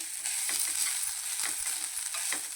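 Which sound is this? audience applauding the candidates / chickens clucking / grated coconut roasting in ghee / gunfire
grated coconut roasting in ghee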